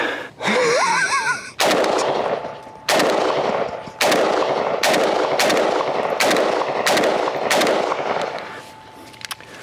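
An AK-47 rifle with a ham sandwich dropped into its open action fires eight loud, sharp single shots at irregular intervals of about a second, each followed by a reverberating tail, after a brief opening whistle-like sound.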